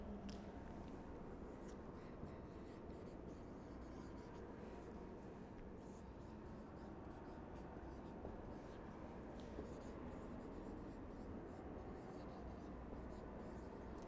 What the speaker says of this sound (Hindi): तो नेक्स्ट हम इसके लिए लिखेंगे